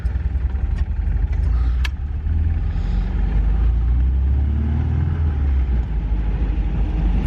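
A classic car pulls away slowly on a test drive, its steady low engine rumble running close and continuous with no voices over it.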